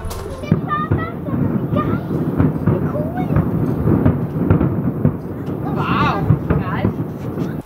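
Thunder rolls during a lightning-filled thunderstorm, a steady low rumble with rain noise throughout, while people talk over it.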